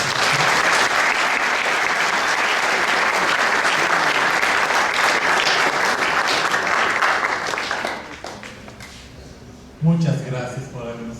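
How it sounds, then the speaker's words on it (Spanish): An audience in a lecture hall gives loud, sustained applause after an academic course is honoured, steady clapping for about eight seconds before fading out, followed by a brief spoken voice. "Un aplauso, por favor."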